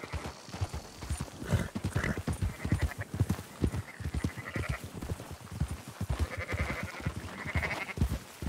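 Sheep bleat repeatedly over steady horse hooves clip-clopping in Red Dead Redemption 2, rounding up a scattered flock in the yards; rhythmic hoofbeats run throughout with several close bleats layered on top.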